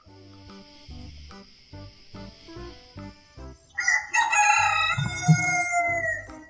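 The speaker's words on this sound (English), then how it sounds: "The sun is up and the roosters are calling." A rooster crows loudly and close after a few seconds of soft rhythmic background music, its long call ringing out over the tune.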